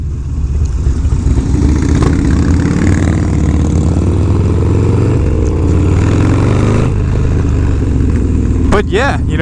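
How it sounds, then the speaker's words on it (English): A motorcycle engine runs steadily at a close, loud level, its low throbbing drone shifting slightly in pitch as it rides, with wind noise and a brief chirping sound near the end. "Bike is running very, very nicely."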